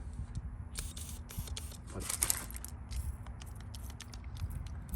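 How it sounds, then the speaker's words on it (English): A steady hiss of a brand-new aerosol spray paint can, spraying horse trailer wheels and sputtering poorly in short irregular bursts over a constant low background hum. "Spray's not working very good. It's a brand new bottle too."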